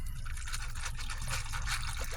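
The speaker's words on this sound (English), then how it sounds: "I'm going to go ahead and get it cracked open here and at least pour half of it out" A drink poured from a freshly opened container, a steady liquid trickle and splash running continuously at close range for a couple of seconds, with no talk.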